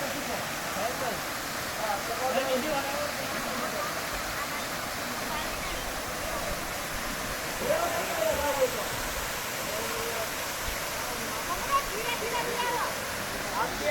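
Waterfall stream at Mini Kedareshwar Dham in Saurashtra, a steady broadband rush of falling water that runs unbroken throughout, with faint voices of people playing in it mixed underneath.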